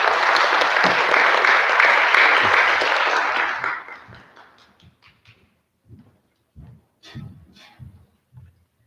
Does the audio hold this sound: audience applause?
yes